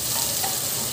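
Tomatoes sizzling and being stirred in hot oil while sautéed for a fish curry, a steady close crackling hiss with no talk.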